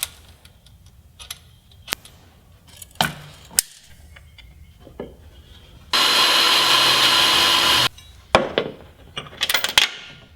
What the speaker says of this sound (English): and then we're going to drill that point